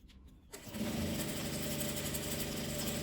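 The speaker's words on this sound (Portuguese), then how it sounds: "Agora eu vou costurar. Dou um retrocesso." Sewing machine stitching fabric for a versatile bag, phone and card holder, starting with a backstitch; after a short quiet start the motor runs steadily and loudly with a continuous rapid whir.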